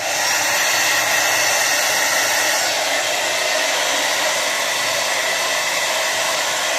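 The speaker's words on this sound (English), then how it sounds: "we're going to just do a little blow dryer, get all these hairs dried out" A blow dryer drying mustache hair runs steadily at close range with a loud, constant whooshing hiss, no voices.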